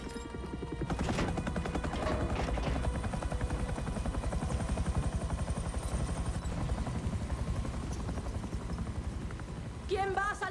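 Helicopter in the Gears 5 video game, a loud continuous rotor thrum with rapid chopping pulses lasting throughout, alongside game effects and talk in Spanish.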